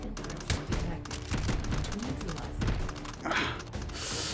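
Rapid gunfire in the VR shooter Hot Dogs, Horseshoes & Hand Grenades, with bursts of sharp shots and thuds cracking in irregular rhythm, some near and loud, others further off.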